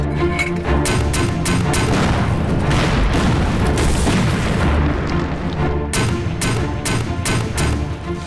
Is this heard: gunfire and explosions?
yes